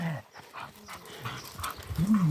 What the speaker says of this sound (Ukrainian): Собаки бандити